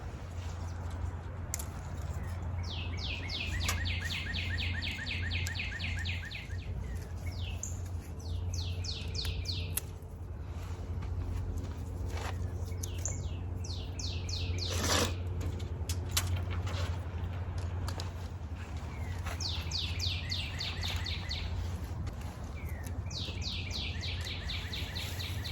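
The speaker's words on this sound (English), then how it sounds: "Birds are singing." Birds sing repeatedly outdoors in bursts of bright, rapid chirping trills over a steady low background hum, with a few sharper calls scattered between.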